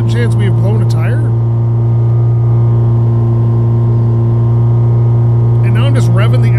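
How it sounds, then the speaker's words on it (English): A car engine in the driving game My Garage drones loudly and steadily as it is revved hard up a small hill, with a voice talking over it at the start and end. "And now I'm just revving the ever-living crap out of this poor engine to climb a very tiny hill."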